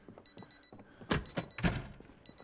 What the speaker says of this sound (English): that means we're gonna have to listen to this beeping